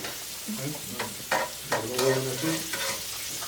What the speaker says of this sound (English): Here we go, shrimp's done. Just want to reheat that real quick. Put a little char on that.